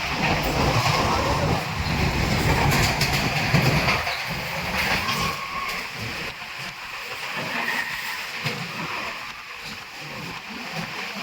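A train bound for Goa speeds through a tunnel, a loud, continuous roaring rumble with rattling wheel noise that eases slightly partway through.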